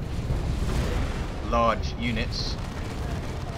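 A Predator tank's twin-linked lascannon fires at Terminators during a 3v3 Dawn of War 2 match, giving heavy booming blasts under a low battle rumble while a commentator talks over it.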